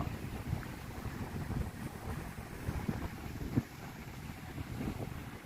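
Strong cold wind blows by the Mekong River at a riverside viewpoint, a steady rumbling buffet across the microphone with occasional harder gusts and no talk.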